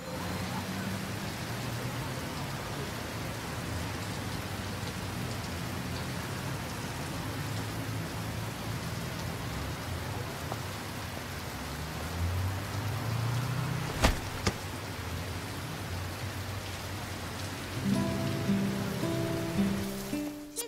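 Steady rain falls as a constant hiss with a single sharp knock partway through. Voices start talking over it toward the end.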